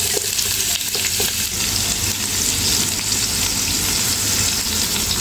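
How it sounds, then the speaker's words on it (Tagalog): Chickpeas frying in a pan until brown, a loud continuous close sizzle with steady crackling and occasional stirring. "iprito lang siya hanggang sa ma-brown"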